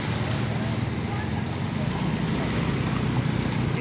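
A strong whirlwind roars steadily and close at hand, a dense, constant rush of wind buffeting the microphone, with a voice speaking faintly beneath it.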